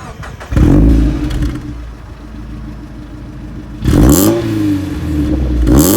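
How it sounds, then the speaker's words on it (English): Mazda MX5 fitted with a Powerflow axle-back exhaust and decat, revved twice: a loud opening blip that settles to a steady idle, then a second rise and fall near the end, with no talking. "it's got a Powerflow axle back exhaust with a decat"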